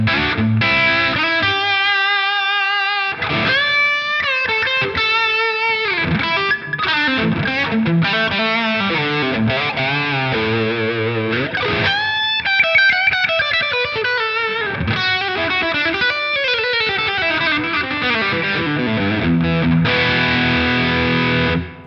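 Electric guitar through a Helix Prince of Tone overdrive model cranked to 10, playing loud, thick, crunchy chords and bending single-note lines with a continuous saturated tone and no talking.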